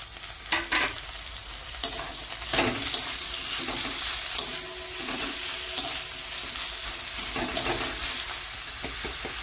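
Green chillies and chopped tomato hitting hot oil with lightly fried garlic while spicy chicken kasha is cooked, a close continuous sizzle broken by occasional stirring clicks and soft scrapes.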